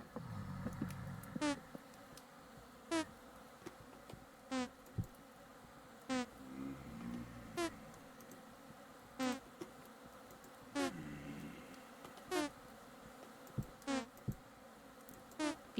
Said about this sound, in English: If you hear that little bee, that's them getting stung by the bees.